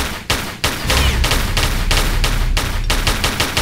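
Rapid, very loud bursts of automatic gunfire in the video game Tomb Raider 3: The Lost Artifact, fired in repeated volleys with brief pauses between them, no voices.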